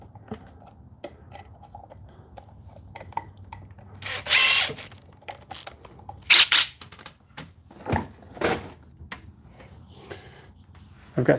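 A power drill drives sheetrock screws into covers during a workshop install, with several short bursts of whirring separated by pauses and thumps.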